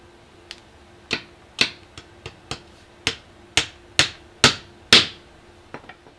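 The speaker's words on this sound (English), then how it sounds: "nail a coupler into the dowel" Hammer blows driving nails to fasten a coupler into a wooden dowel for a DIY wooden tent pole, about a dozen sharp, close strikes in an uneven rhythm, several spaced apart then bunched and growing louder before a few lighter taps.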